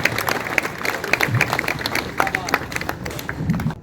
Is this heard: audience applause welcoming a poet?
yes